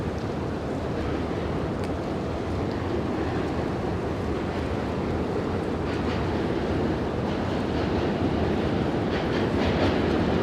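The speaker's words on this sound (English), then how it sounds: "The train you hear is running along the Manhattan Bridge right to our right" Subway train rolling across the Manhattan Bridge in New York City, a steady rumbling roar with faint clatter heard from nearby, continuous and moderately quiet throughout.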